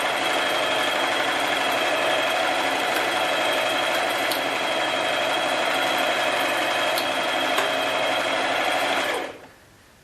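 Cooper Pro Deluxe Mk II sewing machine running steadily and close while stitching a dense satin stitch, a continuous fast mechanical whir with faint ticks, stopping abruptly near the end.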